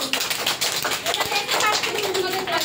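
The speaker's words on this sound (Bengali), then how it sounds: "সবাই হাততালি দাও জোরে, হাততালি দাও।" A classroom of children claps at a school exam results announcement, a brief dense patter of hands, with an adult speaking over it and a few children's voices.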